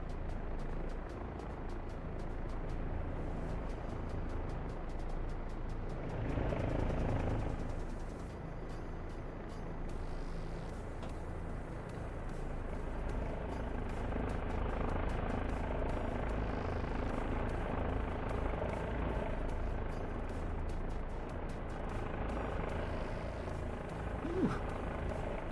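An Apache attack helicopter in a video game, a steady droning rotor and engine roar that holds evenly throughout with a slight swell partway, no voices.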